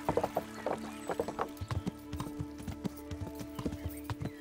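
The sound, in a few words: horse galloping in video game Kingdom Come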